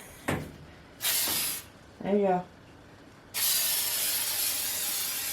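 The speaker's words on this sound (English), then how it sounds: "Just lightly spray over it." Pam cooking spray hissed onto a baking pan in a home kitchen, in three bursts: a short one, a second lasting about half a second, and a long final spray. A voice speaks briefly between them.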